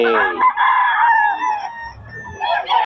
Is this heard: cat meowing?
no